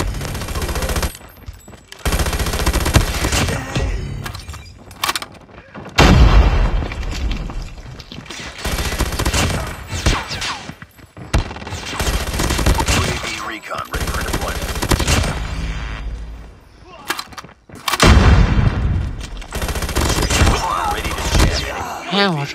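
A first-person shooter match brings repeated rapid bursts of automatic gunfire and heavy impacts, separated by short lulls, with voices talking over the action.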